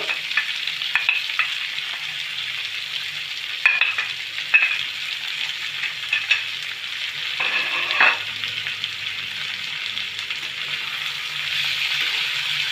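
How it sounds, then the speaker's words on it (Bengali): Chickpea dal frying in hot ghee over a medium flame gives a continuous bright sizzle, with intermittent scraping clicks of a spoon stirring through the pan, no voices. "ঘিটা গরম হয়ে গেছে এবারে আমি ডালগুলো দেব"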